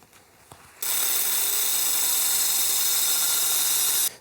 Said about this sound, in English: So what I'm going to do is I'm going to cut two strips.